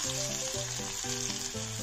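Steady crackling sizzle of garlic and onion frying in hot oil, close and continuous, with faint tonal notes in the background.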